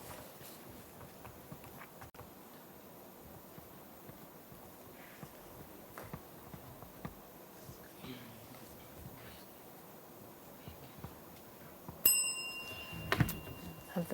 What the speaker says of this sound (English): The bell came first, so the question goes to Munro.